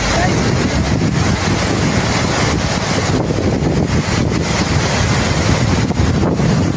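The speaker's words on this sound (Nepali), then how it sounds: "यहाँ कस्तो हावा आइरहेछ" Strong, steady wind buffets the microphone with a constant low roar at a hilltop viewpoint in Budanilkantha, unbroken from start to finish.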